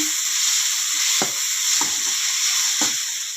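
Bitter gourd curry with chili powder and salt frying in a pan, a steady close sizzle broken by a few brief scraping stirs.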